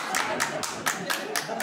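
Audience clapping in a comedy club, a short burst of several loud, sharp claps in a loose rhythm close to the microphone.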